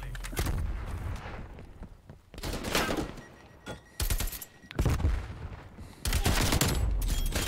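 Loud bursts of automatic gunfire in Call of Duty Black Ops Cold War come in several separate volleys with short gaps, heavy and close, with booming low-end impacts.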